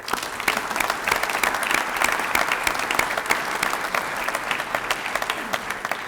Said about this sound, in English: ask everybody for another round of applause to thank Jeff and Tricia